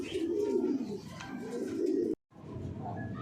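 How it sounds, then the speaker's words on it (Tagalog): Racing pigeons just home from a race coo steadily and close by, a soft continuous throaty burble with a brief break near the end before resuming. "dumating na yung ating ibon na dalawa, si Ase at saka si Maling"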